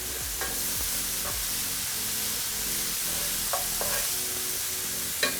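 Food sizzling steadily in a hot pan as it is sautéed with salt and black pepper for a spicy Kerala-style cold water lobster roast, with occasional scraping stirs and soft clinks over the continuous frying hiss, no voices.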